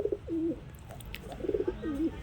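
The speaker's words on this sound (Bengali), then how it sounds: "এই যে এক জোড়া রামপুরি কবুতর" A pair of Rampuri pigeons coo nearby in soft, repeated rolling phrases, several short throaty calls in a row with faint background noise.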